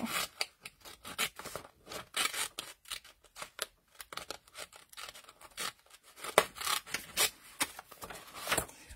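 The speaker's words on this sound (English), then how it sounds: "I'm using the Tim Holtz micro serrated mini snips" Tim Holtz micro serrated mini snips cut through paper in a quick series of crisp, close snipping strokes that come in irregular bursts, with no voices.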